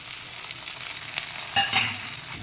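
Onions, tomatoes and fennel seeds frying in a kadai for mutton curry, a continuous close sizzle with a couple of sharper spatula scrapes near the end, no talking.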